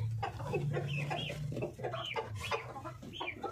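Desi village chickens clucking while they eat in a small home farm, a close, steady chorus of soft clucks and chatter.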